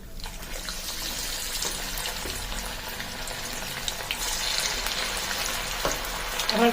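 Bottle gourd peel pakoras frying in a pan of oil over a low gas flame, giving a steady, close, continuous sizzle with no talk.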